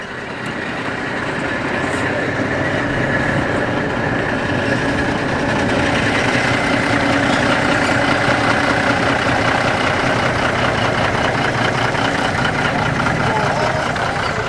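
A classic R-registration Bedford TK lorry engine runs with a steady, loud diesel rumble at a classic lorry run, holding evenly throughout with a voice talking over it.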